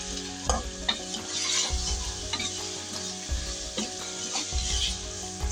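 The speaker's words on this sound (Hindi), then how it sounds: "मसाला जो हम ग्राइंड किया है वो सारा इसके अंदर ऐड करेंगे। इसे अच्छी तरीके से मिक्स करेंगे।" Ground masala is stirred into beef nihari in a pot, with steady scraping strokes over a continuous low sizzle and a few sharper knocks of the spoon against the pot.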